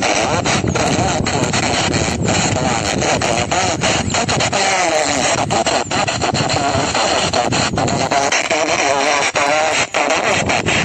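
Shortwave radio reception in Ostrov, Pskov region, with a Chinese station breaking through: dense, loud hiss and static, warbling distorted sideband voices and crackling interference fill the whole stretch.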